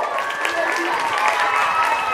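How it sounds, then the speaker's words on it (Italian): Brief applause at a school athletics medal podium, a crowd clapping steadily at moderate volume for a couple of seconds in an echoing space. "Applauso per questo podio."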